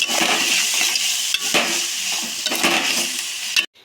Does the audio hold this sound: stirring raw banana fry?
yes